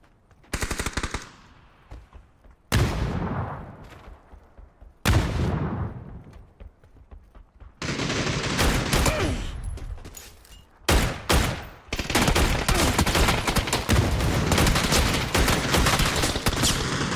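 Gunfire in PUBG: Battlegrounds: loud bursts of rapid automatic shots separated by brief pauses, then long sustained volleys of fire near the end.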